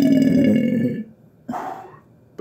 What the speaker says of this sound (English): The burp was good.